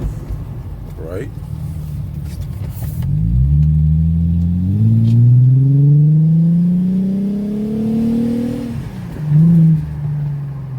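A Mercedes C240 W203 with its muffler deleted pulls away and accelerates, engine note rising steadily in pitch through a long rev before easing off, a close, rumbling drone with a brief voice at the start.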